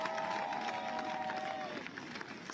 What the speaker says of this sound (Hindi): जरा एक बार तालियां बजा दीजिएगा सम्मान में